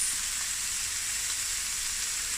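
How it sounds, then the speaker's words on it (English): Chicken wings frying in a pot give a steady, dense hiss of oil sizzling, close and even in level from start to finish, with no voices. "this is going to fry for about 5 to 10 minutes"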